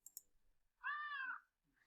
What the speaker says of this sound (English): We can grab play sound and make it happy meow.